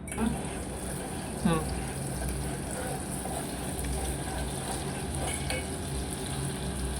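Homemade butter simmering into ghee in a pan, a steady soft bubbling sizzle that continues throughout, with a voice talking over it.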